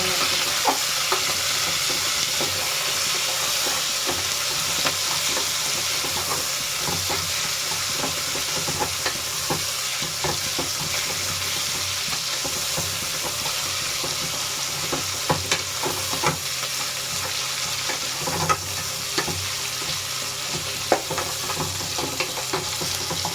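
Onions, with garlic, deep frying in a pan for a rustic village-style chicken biryani: a steady, dense sizzle with occasional stirring scrapes and crackles, close and continuous with no talking.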